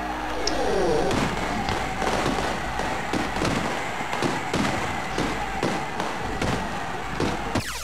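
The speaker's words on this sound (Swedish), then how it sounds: "Vilka fyrverkeri för mig bara." Fireworks explode in the video game Syndicate, producing a dense, continuous crackle of bursts and thumps that stays steady and loud throughout.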